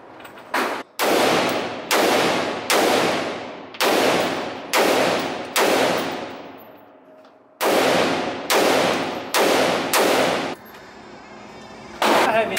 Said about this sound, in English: I'm about to shoot the jackal